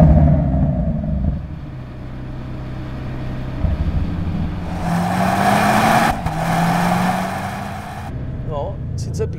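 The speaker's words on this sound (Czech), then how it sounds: "Se pískají ty gumy." A 2024 BMW M5 hybrid weighing over 2.5 tonnes accelerates hard, its engine drone rising in pitch while a broad hiss of tyres struggling for traction swells midway and fades, with a person talking over it inside the car.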